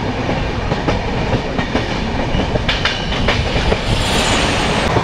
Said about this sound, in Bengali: এই যে আমরা ট্রেনে যাচ্ছি